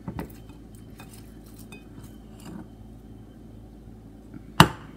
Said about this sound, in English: And toss it till it's nice and coated.